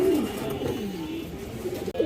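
Silver pigeons, including Bagha and other breeds kept in pairs, coo steadily in a low rolling murmur close by, continuous for the whole stretch with no talk.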